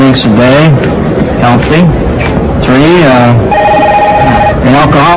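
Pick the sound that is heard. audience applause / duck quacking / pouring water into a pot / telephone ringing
telephone ringing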